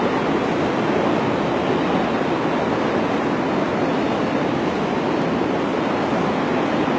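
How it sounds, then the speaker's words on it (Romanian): Sea waves on the Black Sea shore at Costinești in winter, a dense steady wash of surf with no distinct breaks, loud and continuous without any talking. "Marea se agită foarte ușor"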